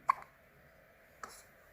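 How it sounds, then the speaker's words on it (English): A person hiccups twice, each a sharp, brief gulping catch, about a second apart, with a small trailing sound after the first, in a quiet room. "This guy has the hiccups."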